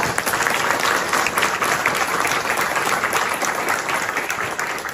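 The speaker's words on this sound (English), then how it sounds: "a round of applause for the fantastic work that they have done" An audience at a lecture on the Moplah riots and Gandhi applauds the organisers, a loud, dense, even roar of clapping that holds steady from start to finish.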